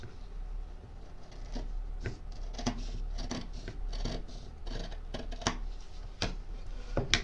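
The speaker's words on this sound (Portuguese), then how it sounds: "Junta bem aqui, ó, costura com costura pra cortar." Scissors snipping through fabric along matched seams while making a top, with repeated close crisp cuts over a low steady background hum and no talk.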